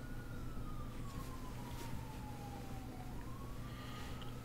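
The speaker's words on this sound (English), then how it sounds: "I already hear the sirens." Police sirens in the GTA 5 video game, a faint, distant wailing tone that slowly falls and rises over a steady low engine-like rumble, with no talk.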